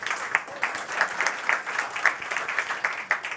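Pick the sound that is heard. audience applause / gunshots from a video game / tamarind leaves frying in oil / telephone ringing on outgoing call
audience applause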